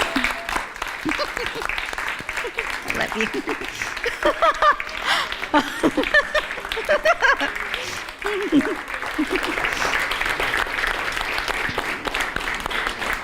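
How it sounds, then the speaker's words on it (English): An audience at a speaking event gives sustained, dense applause lasting throughout, with a voice briefly speaking over the clapping. "Can we give my grandma a round of applause?"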